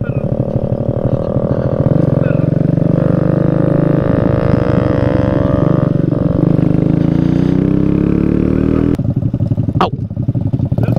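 Motorcycle riding along a winding mountain road in cold weather, its engine a steady loud drone with shifting pitch as it speeds up and slows through curves, continuous throughout, with people talking over it.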